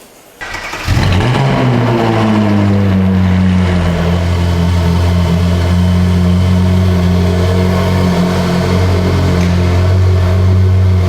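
A car fitted with an IPE F1 exhaust, valves closed, fires up with a sharp start and then holds a loud, steady, deep engine drone close by for the rest of the stretch.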